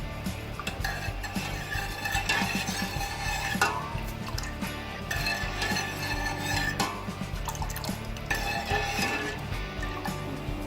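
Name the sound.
sugar water boiling in a pan while stirred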